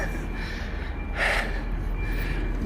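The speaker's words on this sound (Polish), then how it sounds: "sorry, że tak sapie, bo idę z tym ciężkim plecakiem" Heavy, breathy panting from someone walking outdoors with a heavy backpack on the way to a bus, with one louder gasping breath in the middle over steady background noise.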